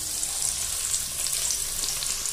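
Ground coconut paste for a fish curry hits hot oil in a pan, giving a steady, close, bright frying hiss that holds evenly throughout with no voices.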